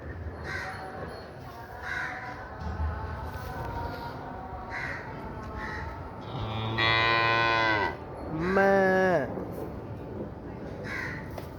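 Cows in a video game let out two loud, drawn-out moos, one right after the other, late in the stretch, after a talking voice and a few crow-like caws.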